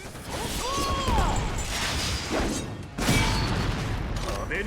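Fireworks-style explosions from Tengen's ultimate attack in a Demon Slayer fighting game, with dense crashing bursts, whooshing sweeps and a fresh loud blast near the three-second mark.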